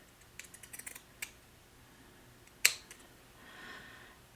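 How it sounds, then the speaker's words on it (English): Pinking shears snip the edge of fabric in a quiet room: a short run of light crisp clicks, one sharper louder cut near the middle, then a soft brushing rustle, all close up and with no talking. "I'm just going to use my pinking shears here and I'm just going to snip off the"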